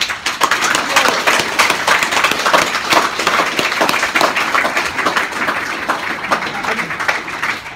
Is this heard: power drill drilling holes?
no